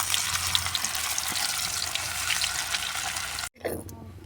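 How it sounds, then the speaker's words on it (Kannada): Pomfret fish sizzles in hot oil in a pan, a steady broadband frying hiss close by that cuts off briefly near the end before resuming more faintly. "ಪಾಪ್ಲೇಟ್ ಮಚ್ಚಿಲ್ರಿ ಆಲ್ರೆಡಿನ ಒಂದು 2 ನಿಮಿಷ ಫ್ರೈ ಆಗಿರ್ತೈತ್ರಿ ಅದ್ರಿ"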